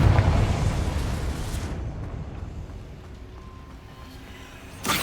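A fiery Confringo spell blast explodes in the video game Hogwarts Legacy, one loud, close boom that rolls into a long, fading rumble before a brief burst of noise returns at the end.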